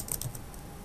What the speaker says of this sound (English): you start typing some BS